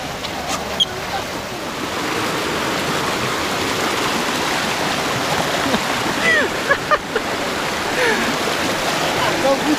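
A cold mountain stream at Liliw, Laguna rushes loudly and steadily, a dense close wash of flowing water with a few splashes, with no talking over it.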